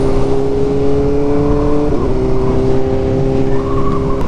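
A Kawasaki Ninja ZX4RR motorcycle cruises on Marcos Highway, its engine holding a steady loud drone with a brief shift in pitch midway under heavy rushing wind.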